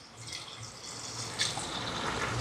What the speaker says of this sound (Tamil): இப்போ இதுக்கு தண்ணி சேர்ப்போம்.